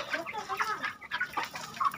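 Free-range village chickens clucking at a farm during feeding on cassava leaves and bran, a cluster of short, overlapping clucks and chirps close by, steady and busy throughout with no voices.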